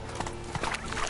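Roach, Geralt's horse in the video game The Witcher 3, gallops in a quick run of clip-clopping hoofbeats over a constant background din.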